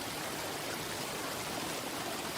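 A flowing river stream gives a steady, even wash of rushing water that stays constant throughout, with no voices over it.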